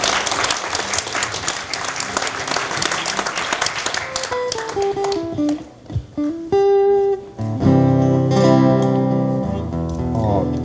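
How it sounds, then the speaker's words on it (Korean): Applause from the audience after a performance at a small concert, a burst of clapping that tapers off in the first half before music with sustained notes takes over. "두 분이 만든 무대 힘차게 다시 한번 박수 보내주세요"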